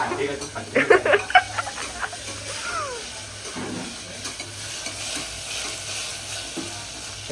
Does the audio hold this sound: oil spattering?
yes